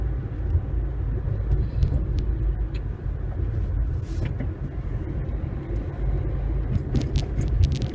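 A car driving on a city road in Strasbourg during a driving test, held at about 50 km/h, gives a steady low engine and road rumble with no clear gaps, close and even throughout, with no talk.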